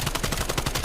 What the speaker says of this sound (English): Levels with an amazing shot on the guy at Tetris there.